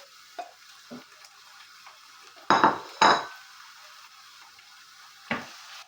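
Meat goes into a pot of softened onions and is stirred as it fries, with a few sharp clanks of a utensil against the pot over a faint, steady sizzle.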